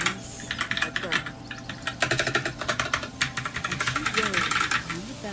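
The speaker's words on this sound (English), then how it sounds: "Mashing the keyboards." Rapid keyboard mashing while playing the typing game Epistory, a dense run of quick uneven clacks heard up close with a voice talking over it.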